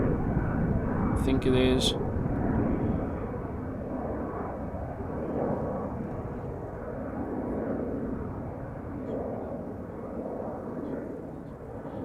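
Turkish Airlines Airbus A330 taking off at Schiphol airport, a loud, steady jet engine roar that swells and holds throughout, with a person speaking briefly over it near the start.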